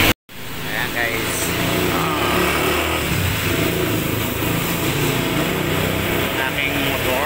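A motorcycle engine running steadily close by, a continuous loud rumble with a little rise and fall, voices faintly underneath.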